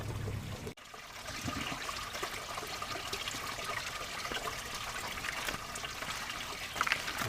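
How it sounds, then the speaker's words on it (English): Water trickles and splashes steadily in a small aquaponics drip box, a continuous close hiss of falling water with no break, and a faint click near the start. "So this is the little drip box."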